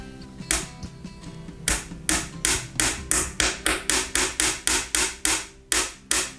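A small hammer taps nails into a wooden model ship in a quick, fairly regular series of sharp metallic strikes, close and distinct, about twenty blows in a row.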